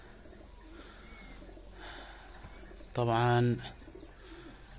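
Pigeons coo in a short burst of rhythmic, throaty calls close by, set against a quiet outdoor background with brief speech nearby.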